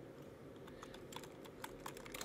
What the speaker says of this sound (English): And I'm just gonna type in